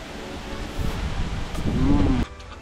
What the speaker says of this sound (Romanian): ce bate vântul.